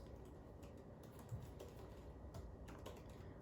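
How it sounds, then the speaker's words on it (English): Soft, scattered keystrokes tap on the keyboard of a 2020 M1 MacBook Air, quiet and close, with irregular clicks over low room hiss and no talking. "So take a look at the keyboard and just see how it feels."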